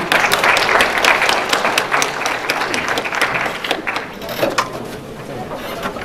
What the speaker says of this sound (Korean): 우리 봉선영 학생 여러분 큰 박수로 맞아주시길 바랍니다